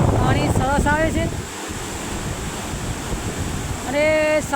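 Sabarmati river water flowing at Sadoliya near Prantij, heard as a steady, loud rush of water and wind noise. A voice talks over it at the start and again at the end.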